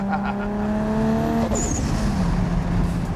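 A tuned 700 hp Toyota Supra driven on the road gives a loud, close engine drone with a high whine that rises and then fades, followed by broad road and wind roar.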